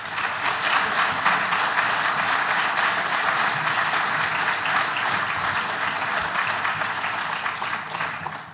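An audience applauding to welcome Dr. David Crist at a lecture, sustained dense clapping from a large crowd, steady throughout and tapering slightly at the end.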